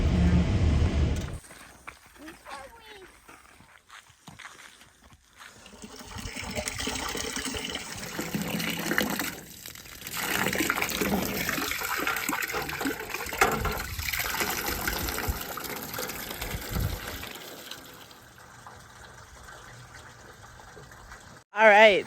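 Water runs and splashes steadily into a trough for horses in long stretches of rushing flow, with a brief louder burst at the start and the end.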